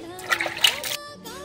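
Water splashes briefly over a utensil being washed for making pitha at home, with a voice talking over the short splash.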